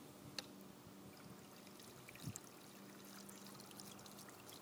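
Water trickles steadily from a pump-driven garden rock fountain of stacked, drilled stones, a soft continuous babble with a couple of brief clinks, quiet and close.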